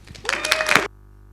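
A short burst of audience clapping at a Django tech talk, rising quickly, holding for about half a second and cutting off abruptly, with a faint whistle-like tone running through it.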